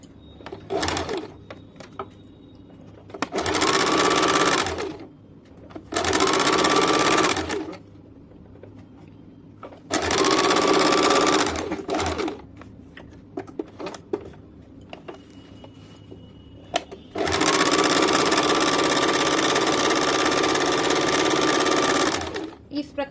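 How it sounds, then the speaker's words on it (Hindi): A sewing machine stitches the crotch piece of a semi-salwar in several loud, steady bursts of whirring, separated by short pauses while the fabric is repositioned, with some quiet handling sounds between runs. "मियानी को नीचे की तरफ 1/2 इंच उतार के इस प्रकार से पकड़ेंगे। इस प्रकार से 1/2 इंच उतार के ऐसे पकड़ के फिर इस प्रकार से सिलाई करेंगे।"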